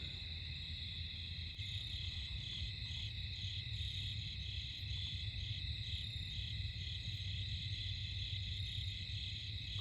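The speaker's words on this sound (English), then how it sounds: "All I hear is crickets." Crickets chirp in a steady, continuous high trill at night in a cemetery, filling the quiet air evenly with no voices or other sounds.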